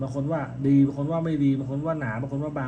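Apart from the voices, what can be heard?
No distinct noise like a dog, phone or traffic.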